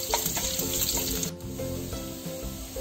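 Garlic and green chili sizzle in hot oil in a pan while cooking masala macaroni, a steady crackling hiss with a faint background tone, fairly quiet and continuous.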